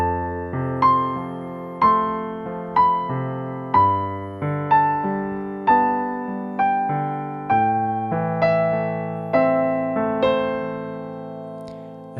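Left-hand piano accompaniment, played alone: low sustained bass notes struck about once a second in a steady, ringing rhythm, each attack decaying before the next, close and clear with no voice.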